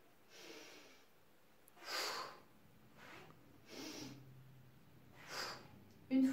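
Soft, airy breaths during a gentle Five Tibetans wellness exercise, several slow inhales and exhales evenly spaced and faint against quiet background.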